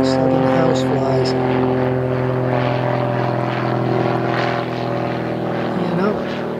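Propeller planes drone overhead above pine woods near dunes, a loud steady engine hum with a fluctuating buzz, as someone speaks over it.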